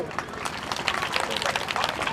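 An audience claps at a Teeyan Da Mela celebration, with steady, moderately loud clapping and a busy crowd murmur underneath.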